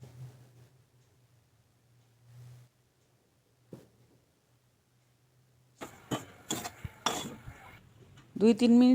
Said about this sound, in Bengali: শুকনো উপকরণগুলো খুব ভালো করে একটু কড়ায় পাঁচ থেকে সাত মিনিট ভেজে নেব